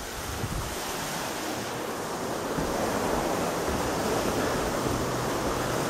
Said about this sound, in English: Yeah, the river is flowing really fast right through here.